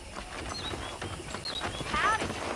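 Hooves clip-clop at a steady walking pace in Red Dead Redemption, with a horse whinnying briefly near the end.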